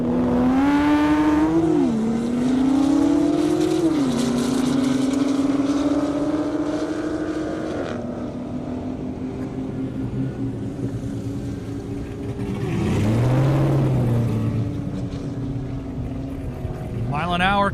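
A Dodge Hellcat and a Porsche 911 drag race on an airport runway, their engines revving hard and shifting through gears before a second high-speed pass roars by. An announcer talks over the racing.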